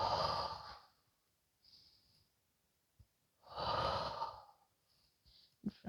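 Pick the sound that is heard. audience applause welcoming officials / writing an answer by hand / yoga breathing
yoga breathing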